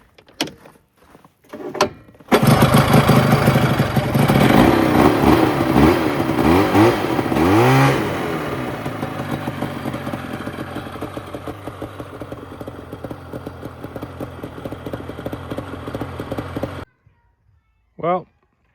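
A 1971 Skiroule SX440 snowmobile cranks after a few short pulls, then its two-stroke engine catches and revs loudly, settling into a buzzing run before cutting off abruptly.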